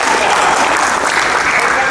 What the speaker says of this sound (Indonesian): tepuk tangan untuk Bang Manimbang